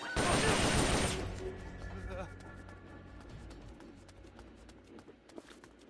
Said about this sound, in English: You hear that? Gunshots!